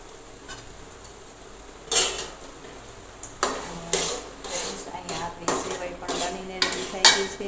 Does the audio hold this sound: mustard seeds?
yes